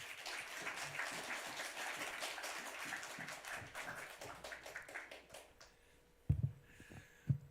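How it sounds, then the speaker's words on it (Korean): A church audience claps to welcome a pastor, a dense burst of applause that thins and fades out over several seconds, ending with a couple of loud thumps nearby. "목사님 나오실 때 박수로 환영하겠습니다"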